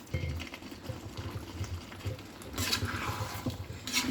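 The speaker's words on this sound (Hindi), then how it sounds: "इसलिए मैं यहाँ पे थोड़ा सा गर्म पानी ऐड करूंगी" Hot water is added to a simmering potato and parwal (pointed gourd) curry, giving soft bubbling and liquid patter that swells into brief louder pouring splashes near the end.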